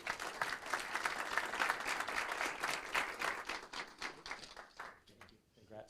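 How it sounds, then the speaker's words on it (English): A room at a city council meeting breaks into a round of applause for a deputy, sustained dense clapping from many hands that gradually thins and fades near the end. "Please join me in a round of applause."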